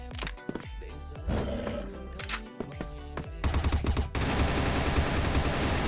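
Rapid gunfire in the online shooter CrossFire: dense, loud bursts of automatic shots crackle one after another, thickening into a continuous close-range barrage in the second half.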